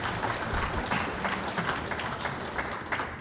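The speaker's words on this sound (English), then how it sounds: "Give him a round of applause." Audience applause at a fireside talk event, a brief, fairly quiet patter of many hands clapping at an even level throughout.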